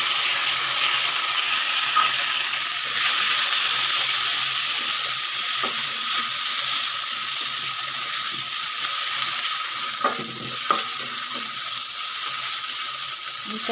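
Ground spice paste fries in hot oil for a prawn curry, making a steady, fairly loud sizzling hiss with occasional small pops and crackles throughout.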